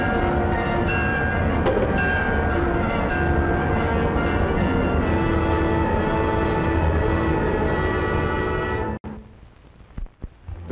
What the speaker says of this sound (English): Now the Clipper goes speeding under electrical power.